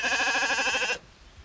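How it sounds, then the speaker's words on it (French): A Manech ewe near Saint-Jean-Pied-de-Port gives a single loud, quavering bleat close by, breaking off abruptly to quiet outdoor background. "quand on parle de brebis, on parle de manèches"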